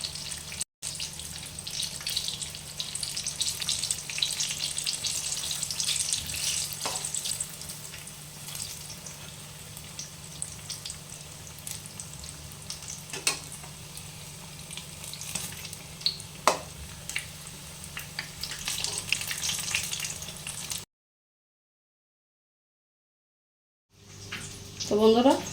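Eggplant slices (beguni) fry in a pan with a steady, moderate sizzle for about twenty seconds, broken by occasional clinks. A brief silence follows, then a louder burst of sizzling.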